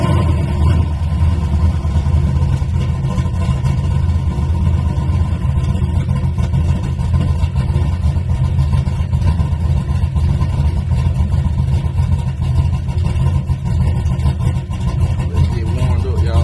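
A car with a recently redone, loud exhaust runs close by, holding a steady, throaty idle with a deep rumble throughout and no clear talking over it.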